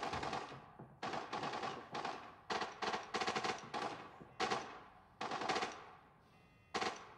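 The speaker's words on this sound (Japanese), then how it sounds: "この銃声の音リアルで聞こえんな" Automatic gunfire from the Arena Breakout video game comes in rapid bursts of shots, each burst trailing off in echo, and the loud bursts keep repeating with short gaps between them.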